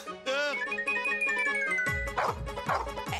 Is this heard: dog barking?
yes